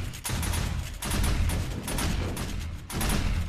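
Rapid, loud 12-gauge shotgun slug fire in the video game 7 Days to Die during a zombie horde defense, shots booming almost continuously with short gaps, no talking over them.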